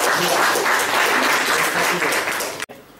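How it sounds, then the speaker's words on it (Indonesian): A classroom crowd applauds a student group after their Indonesian history presentation, with steady, dense clapping filling nearly three seconds before cutting off abruptly into quieter room tone. "mari kita beri aplaus kepada kelompok"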